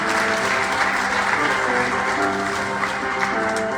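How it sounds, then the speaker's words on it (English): Warm, continuous applause from a temple congregation during a Navratri night service, even and sustained throughout, with a faint hum running underneath. "Let's give them a round of applause."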